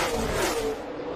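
NASCAR stock cars racing at a superspeedway on a restart, a dense roaring engine drone sweeping past at steady loudness before easing slightly, heard from trackside with no voices.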